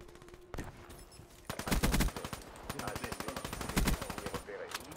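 Light machine gun fire from Black Ops 3 rattles in rapid bursts, a short stutter, a pause, then long sustained strings of closely spaced shots that dominate the scene.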